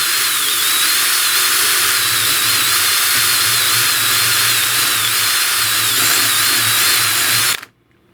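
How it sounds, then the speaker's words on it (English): A power drill bores straight through a wooden dowel during a small table loom build, a loud, steady whine held for about seven and a half seconds before stopping abruptly. "what I'm going to do is drill a hole straight through the dowel"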